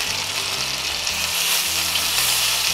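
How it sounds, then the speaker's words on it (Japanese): Food crisping in a hot pan gives off a loud, constant sizzle and crackle with no break for about three seconds. "両面カリッと焼きますね"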